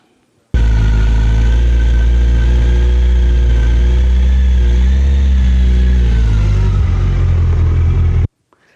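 A motorcycle engine runs steadily with a low, throaty rumble during a hill start, its pitch rising and dipping slightly as the throttle is eased on, then it cuts off.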